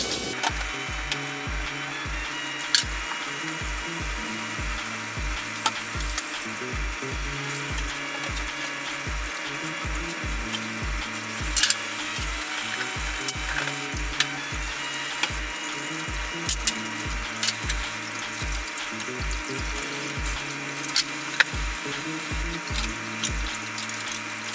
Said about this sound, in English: Now, we'll wash the juicer.